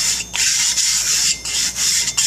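Abrasive grit being rubbed into a new or resurfaced sharpening plate, a close gritty scraping in repeated back-and-forth strokes with brief gaps between passes.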